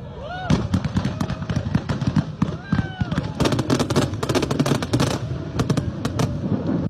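A film-style atomic explosion effect for Oppenheimer: dense crackling, popping bursts like fireworks and gunfire rattle continuously over a low rumble, with whistling rising tones early and louder clustered cracks later, no talk.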